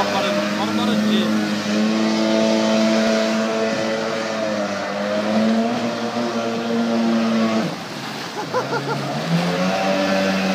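A Sea-Doo 787 engine runs in a 10 ft jet boat, a steady droning hum with strong harmonic tones that dips and shifts pitch near the end, with people talking over it.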